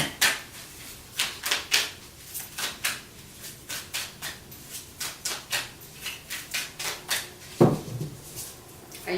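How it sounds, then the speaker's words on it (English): Tarot cards are shuffled by hand in quick repeated bursts, a close crisp riffling and slapping that comes in irregular clusters with a sharper knock near the end. "I usually shuffle until cards pop out"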